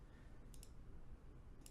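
A computer mouse button is clicked a few times: faint, sharp clicks, a quick pair followed by a single one, over a quiet room hush.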